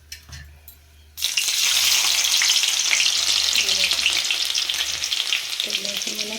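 Garlic hits hot oil in a pan with a sudden, loud, continuous sizzle that crackles steadily for several seconds after a brief quiet moment in a home kitchen.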